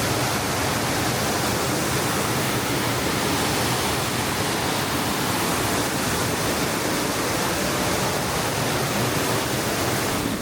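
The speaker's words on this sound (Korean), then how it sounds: "물소리가 우렁차네요" Loud rushing stream water pours through a rocky mountain valley gorge, a dense, steady roar with no breaks, close and unbroken from start to finish.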